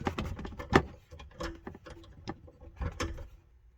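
A wrench works a 13 mm seat bolt on a 2005-2009 Ford Mustang, giving quiet, irregular metallic clicks and ratcheting taps close up with brief pauses between them.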